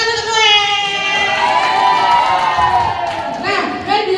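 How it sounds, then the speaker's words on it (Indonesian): A crowd of children cheers and shouts at a school Independence Day ceremony on 17 August, with a loud, sustained roar of young voices and scattered whoops throughout. "Oke, tepuk tangan untuk Noel."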